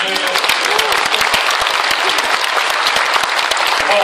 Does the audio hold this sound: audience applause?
yes